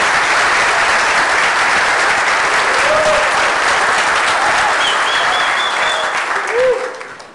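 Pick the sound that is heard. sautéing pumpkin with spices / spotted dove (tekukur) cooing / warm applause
warm applause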